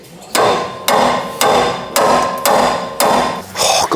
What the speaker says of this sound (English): Shouldn't use real hammers on Land Rovers,